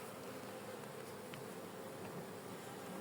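Honeybees from a swarm colony drone at an opened hive, a soft, steady, continuous buzz with no voices.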